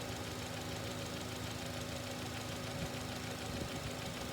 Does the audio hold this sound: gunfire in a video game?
no